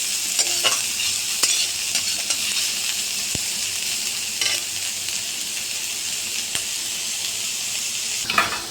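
Onions with two green chillies fry in hot oil for a rohu fish curry, giving a steady close sizzle with repeated spatula stirring and occasional scrapes against the pan throughout.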